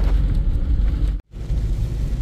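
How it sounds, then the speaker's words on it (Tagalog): Dense, steady roar of heavy rain with a deep rumbling low end, broken by a sudden brief dropout before the downpour resumes. "Ayan, sobrang lakas talaga ng ulan."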